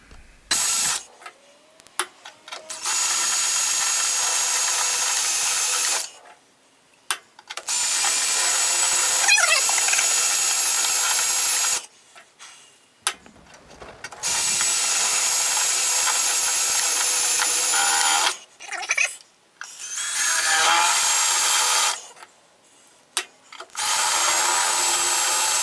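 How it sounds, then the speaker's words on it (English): A handheld electric drill bores holes in metal parts for a slow-speed carbide grinder build, running in several long bursts of loud, steady whirring separated by short pauses. "I'm probably just going to do that with a hand drill"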